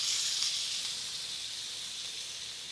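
Pieces of beef shawarma meat fry in an oiled pan, giving a steady, even sizzle and hiss at close range, fairly quiet and without talking.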